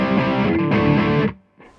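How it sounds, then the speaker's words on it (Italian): Crunchy overdriven electric guitar through a Carl Martin Plexitone overdrive pedal with the tone knob fully closed, giving a dark, warm distortion; a strummed chord rings loudly, is restruck, then cuts off, followed by a faint trailing note. "Proviamo per esempio con un suono crunch col tono tutto chiuso."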